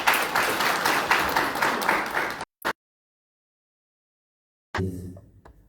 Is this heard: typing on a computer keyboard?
no